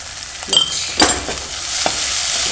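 Chopped tomatoes fry in a hot spiced tempering in a pan for a turnip and pea curry, sizzling steadily with a few sharp scraping stirs near the start.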